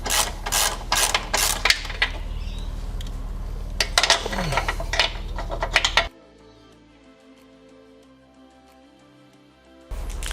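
Clicking socket ratchet tightening 13mm bolts into a welded nut while installing a scrub bar and feet guard on a Can-Am Defender, a busy run of loud metallic ratcheting for about six seconds, then near quiet before a last burst of clicks.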